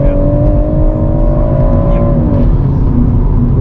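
A 2017 BMW M140i with a ZF 8-speed automatic gearbox accelerates hard, its engine a loud, close, rising drone that dips briefly near the end as a gear changes, with no voices.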